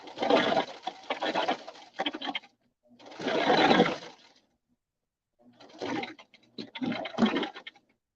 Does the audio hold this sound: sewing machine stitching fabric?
yes